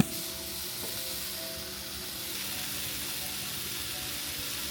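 Food in a pan sizzles steadily as it is stirred and cooked, a continuous soft hiss with faint clinks of stirring, close and even.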